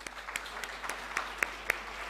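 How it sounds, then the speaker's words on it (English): A conference audience applauding steadily for about two seconds, a dense wash of clapping with a few sharper claps standing out near the end. "big, big round of applause"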